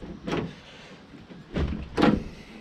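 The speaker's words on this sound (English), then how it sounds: "Door doesn't close, but that's another day." A Jeep door is pushed shut but fails to latch, giving three dull, close thumps spread over a couple of seconds against a low background hiss.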